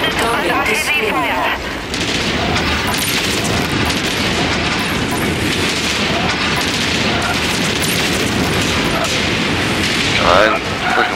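Heavy weapon fire and explosions from battling mechs in MechWarrior 5: Mercenaries roar loud and continuous, a dense barrage of booms and bursts filling the whole stretch, with a voice speaking over the combat.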